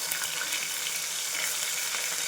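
Onion paste fries in oil in a pressure cooker with cumin, bay leaf and curry leaves, giving an even, close crackling sizzle that holds steady throughout.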